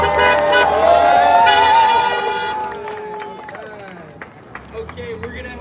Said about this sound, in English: Can I get a round of applause for Alejandro?